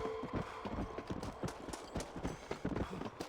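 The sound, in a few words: horse hooves clip-clopping in a video game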